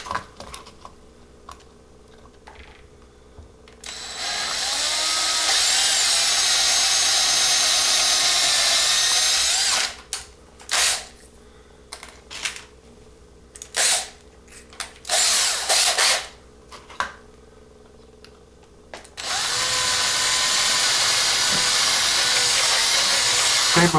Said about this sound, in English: drill out the post